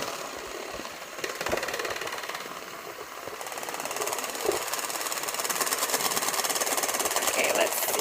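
Electric beaters whip homemade cake batter, giving a continuous buzzing mechanical whir at moderate level, with a person talking over it.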